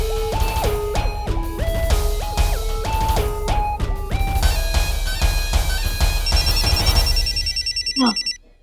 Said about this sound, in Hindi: ये तो हमारे फोन की आवाज है।